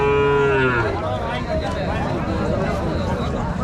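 A seven-to-eight-month-old bull calf at a busy cattle market gives one long, loud, close moo, followed by noisy crowd murmur and movement.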